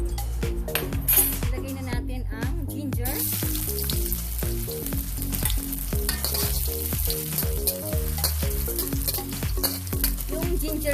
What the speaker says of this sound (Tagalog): Simulan na natin guys ang pagigisa.